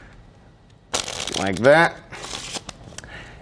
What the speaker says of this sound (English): we give it a couple cuts, a shuffle